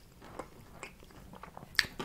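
Bites and chewing on thin, crispy breaded chicken tenders, close to the mic, with several soft crunchy bites spread across the moment and one sharper crunch near the end.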